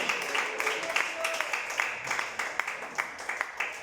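Church congregation applauding in praise to God, sharp claps rising and falling beneath a lively, echoing room, fairly soft overall.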